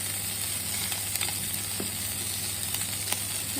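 Bacon grills in a pan in a home kitchen, a constant, close sizzle and crackle with occasional pops and no talking.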